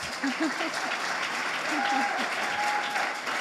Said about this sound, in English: So welcome to the stage. Please, applause.